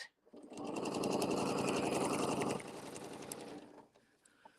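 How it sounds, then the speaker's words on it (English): A sewing machine stitches straight across a quilted placemat in a loud, steady run of about two seconds, then stops and a few handling sounds follow. "I'm lining it up right here by feeling it and stitching straight across there."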